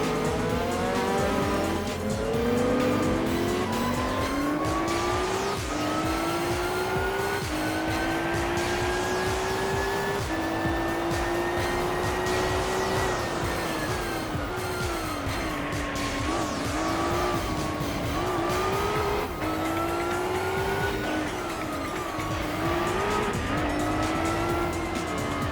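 Race cars lapping a circuit in Gran Turismo 4, a sustained high engine whine rising and falling through gear changes, with tire squeal and other cars nearby, loud and continuous throughout.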